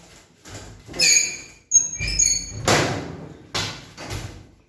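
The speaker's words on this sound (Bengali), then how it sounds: "দরজাটা খুলে দিই ছাতের দরজাটা" A rooftop door is unlatched and pulled open close by: metallic rattles, a scraping slide and several heavy thuds and clanks in uneven bursts.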